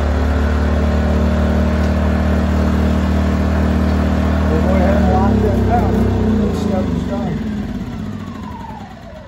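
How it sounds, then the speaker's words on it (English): A Predator 2000 inverter generator converted to propane runs steadily at high idle with a loud, even engine drone that eases off slightly toward the end, close by, with no talk over it. "Take it off, high idle, make sure she runs good there."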